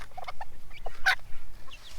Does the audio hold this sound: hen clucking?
yes